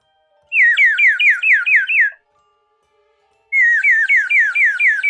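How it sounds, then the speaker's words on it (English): A water-filled bird whistle being blown in two bursts of rapid warbling chirps, each about a second and a half long with a pause between, loud and close with no talking. "this is a bird whistle that's filled with water"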